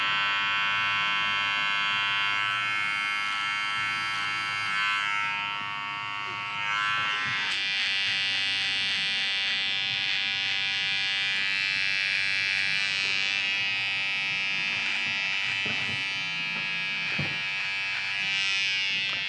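Electric clippers buzz steadily close by while tidying a low neckline during a barbershop haircut, a continuous hum with small shifts in pitch as the blade moves, no talk over it.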